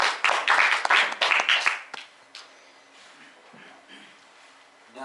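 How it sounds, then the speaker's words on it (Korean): Audience applause welcoming a lecturer at an academic talk: a burst of clapping from a seated crowd fills the first two seconds, then fades to a quiet room with faint stray sounds. "네, 여러분 박수로 맞아주시면 좋겠습니다"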